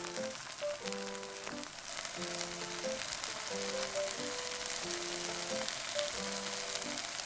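Flaxseed-coated egg sizzles steadily in a hot frying pan, a continuous soft crackle under quiet background music.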